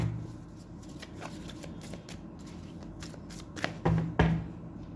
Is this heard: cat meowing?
no